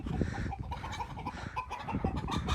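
Chickens clucking and murmuring in a busy, uneven chatter, several birds close by with short irregular calls.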